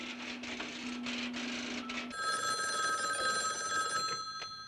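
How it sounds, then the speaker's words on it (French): An old 1970s telephone ringing indoors, a bright metallic bell trilling in sustained bursts after a brief stretch of low humming and faint clicks, fairly close and clear. "C'est votre téléphone, je crois."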